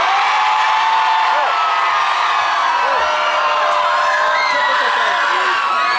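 A live audience at a contest finale roars, whoops and shouts to vote for a finalist, a dense and continuous wall of crowd noise.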